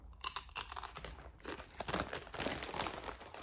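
Lorenz Crunchips Rustics salted potato chips crunched close up, a steady run of crisp crackling and crinkling bites, quiet and close, with no speech.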